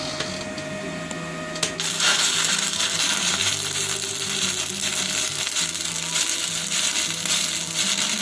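ARCCAPTAIN welder arc burning an 8-inch 718 rod at 130 amps: a steady, loud crackling hiss that starts abruptly after a short quieter lead-in and holds evenly to the end, with no talking.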